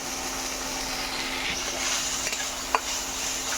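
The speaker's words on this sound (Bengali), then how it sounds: "এটাকে একটু হালকা ফ্রাই করে নেওয়া হচ্ছে" Potato filling for bread toast, lightly frying in a pan, gives a steady soft sizzle with a faint stirring scrape and one brief clink of utensil against the pan, no voices.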